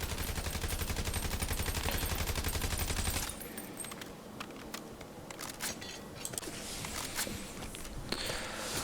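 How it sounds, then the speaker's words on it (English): Gunfire in a Call of Duty Warzone gunfight: a dense rapid automatic burst for about three seconds, then scattered single shots and lighter clicks and thuds at lower level. "you can see I get aimed at here, so I have a little gunfight on this guy"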